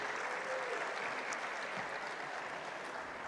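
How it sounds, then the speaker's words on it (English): A large audience at a U.S.–Africa business summit applauds as a panel moderator walks to the stage, a continuous wash of clapping heard from a distance at modest volume. "Can we please give her a round of applause as she comes to the stage?"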